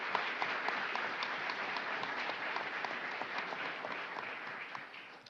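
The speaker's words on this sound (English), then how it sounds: "Can we please give them a warm welcome and a round of applause?" Steady applause from a large indoor audience at a city State of the City address, a dense even wash of clapping sustained throughout without letting up.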